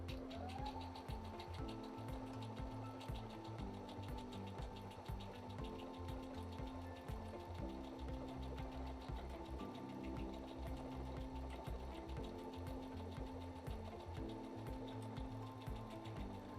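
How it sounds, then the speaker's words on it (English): A Brother BQ950 sewing and quilting machine stitches continuously at close range, giving a fast, even mechanical whirring and ticking rhythm with no talk. "Go ahead and start stitching."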